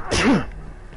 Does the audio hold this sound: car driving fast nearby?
no